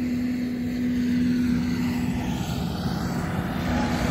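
A new 2022 John Deere 210G LC excavator engine runs steadily, a continuous loud diesel drone with a constant low hum and no break, heard without any talking.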